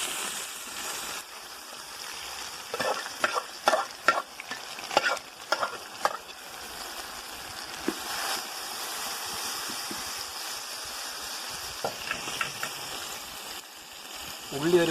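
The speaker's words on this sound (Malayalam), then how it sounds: "ആ ഉള്ളി ഒരല്പം എണ്ണ ഒഴിച്ച് ഒന്ന് വഴറ്റിയെടുക്കാം." Chopped onions sauté in a little oil, a soft sizzle under bursts of spoon-on-pan scraping and clattering stirs, with quieter stretches of gentle frying between.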